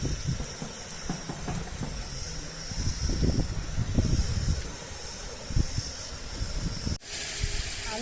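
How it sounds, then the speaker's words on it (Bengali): Oil hits a hot kadhai for a dhaba-style chicken curry and gives a steady, close hiss with soft crackling underneath. It keeps going for several seconds and cuts off abruptly near the end. "কড়াইতে এখন আমি তেল দেব।"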